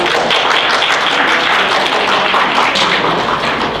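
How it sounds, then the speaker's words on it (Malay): Audience applause after a speech at a student association event with nearly 200 participants: loud, dense, sustained clapping from a large crowd with no voices over it. "Bagi tepukan sikit."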